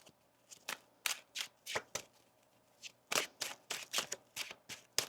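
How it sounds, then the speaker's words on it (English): Tarot cards are shuffled by hand in a steady run of sharp, close flicks and riffles, loud against a quiet background with no talking. "Let's get one more shuffle here for you"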